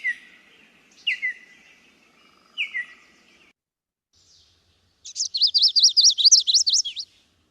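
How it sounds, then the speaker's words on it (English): A chestnut-sided warbler sings: a few clear, sliding whistled notes spaced about a second apart, then a loud, rapid trilled phrase after a brief pause. "It's not a veery, it's a warbler. I think it's chestnut sided."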